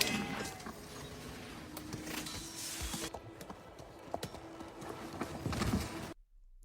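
Hoofbeats of a ridden horse clip-clop steadily at close range, with rustling movement over a constant background and an abrupt cutoff near the end.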